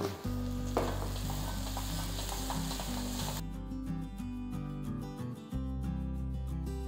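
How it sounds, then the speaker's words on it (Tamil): Onions, chillies and other spicy kara chutney ingredients sautéing in a pan give a steady sizzle with stirring scrapes over a low hum of background music, with no talking. "முக்கால் பதம் அளவுக்கு மட்டும் வதக்கினா போதும்."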